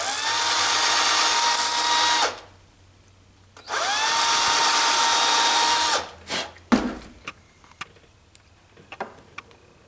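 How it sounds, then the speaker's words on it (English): A handheld power drill bores holes into a carved character piece in two long, loud, steady whining runs of about two seconds each, followed by short bursts, clicks and handling knocks. "I don't think I drilled my holes deep enough"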